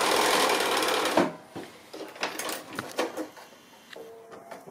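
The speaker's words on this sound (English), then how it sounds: "just put a little holding stitch in there" A sewing machine puts a short holding stitch into fabric strips, opening with a steady close whir that stops abruptly, followed by scattered clicks and handling taps, with no talking.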